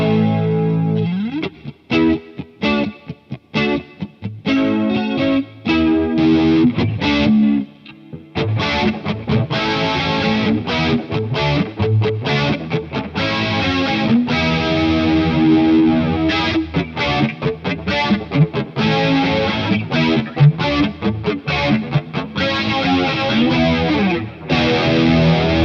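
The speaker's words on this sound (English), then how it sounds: "it's just such a beautiful sounding flanger" Electric instrument played through a PastFx 80/A flanger pedal, a loud, dense swirling jet-like sweep over strummed chords and quick riffs with brief stops, continuous and close with no talking.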